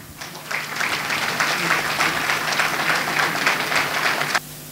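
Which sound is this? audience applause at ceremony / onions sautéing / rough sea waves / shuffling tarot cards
audience applause at ceremony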